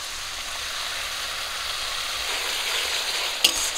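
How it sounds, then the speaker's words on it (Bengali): Spice paste for a rohu fish curry fries in a pan with a steady, close bright sizzle, a short clatter near the end. "মশলাটা একটু ভেজে নিয়েছি, কষানোর জন্য জল দিয়ে দেবো।"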